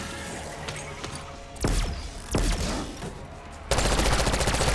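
Gunfire in Black Ops 6 Zombies, a dense crackling stream of rapid shots with a few heavier bursts and a loud sustained volley at the end, close and prominent.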